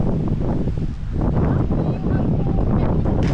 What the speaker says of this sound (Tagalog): Ang lakas ng hangin, solid.